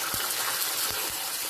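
Water is poured into a hot sizzling tempering of white sesame seeds for lapsi dhokla, a loud continuous gushing hiss and splutter close by with a few soft bumps underneath.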